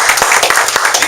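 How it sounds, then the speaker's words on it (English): Brief, loud applause from a networking meeting audience, steady dense clapping throughout a short moment. "How about we give ourselves a big round of applause for showing up today?"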